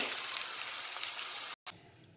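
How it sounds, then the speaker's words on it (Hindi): Spice gravy hits hot oil in a kadhai for rajma masala and sizzles as a steady, close frying hiss. It cuts off abruptly near the end, then gives way to quieter stirring sounds. "इस ग्रेवी को भी डाल देना है कढ़ाई के अंदर ऑयल में"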